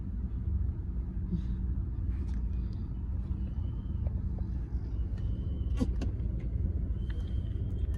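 Inside a car stuck in traffic, with a family sitting together, a steady low engine rumble and road hum continue throughout, joined by faint clicks and small movements.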